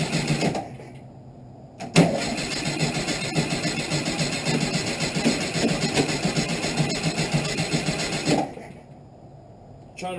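A stuck-carburetor engine on an old rail buggy cranks over, its steady mechanical churning running about six seconds between short pauses, close and fairly loud with no voices.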